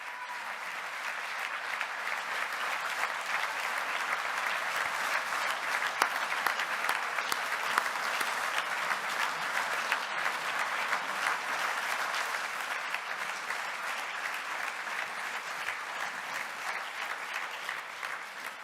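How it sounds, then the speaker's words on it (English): A synodal assembly audience applauds steadily, a dense even wash of clapping that holds at a constant moderate level throughout without any voices rising above it. "I think this round of applause really expresses our gratitude."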